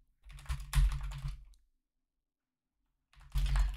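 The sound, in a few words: typing a git pull command on a computer keyboard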